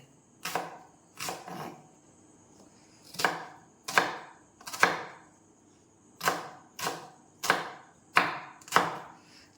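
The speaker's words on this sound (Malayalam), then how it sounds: "അത് കുനുകുന നമ്മളങ്ങ് അരിയുവാണ്" Two small onions being finely chopped with a knife on a board, heard as close, crisp thuds in short bursts of two or three strokes separated by pauses, alone with no talk.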